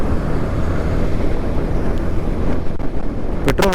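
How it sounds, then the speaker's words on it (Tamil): Strong wind buffets the microphone in a steady, loud roar near a boat on open water, with waves and surf underneath and a brief higher whistle near the end. "காற்று வேற கொடூரமாக வீசுது."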